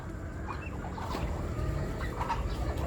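Farm fowl, likely ducks, give soft clucking and quacking calls over a steady low rumble, close by and fairly quiet, with no talking.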